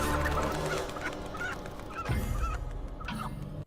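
Loud, busy poultry calls from several birds at once, honking and squawking, with one harsher crow-like cry rising near the end.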